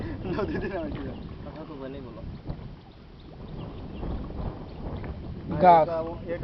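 A boat is pushed off into the water in the Sundarbans mangrove forest, with watery sloshing and wind rumble close to the microphone as voices call out over it.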